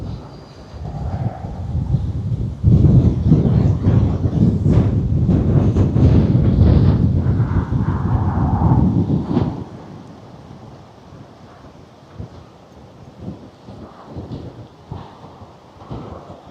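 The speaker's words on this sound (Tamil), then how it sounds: "காற்று அதிகமாகுது." Strong wind buffets the microphone at a coastal viewing spot near Anchorage, Alaska, roaring loud and close for several seconds before easing into quieter gusts.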